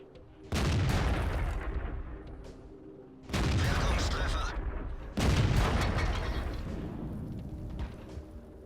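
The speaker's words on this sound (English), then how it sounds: "You could see the turret blow off there." Three heavy booming blasts with long rumbling decays, tank fire and an ammo rack explosion that blows a turret off in the World of Tanks video game, loud and close.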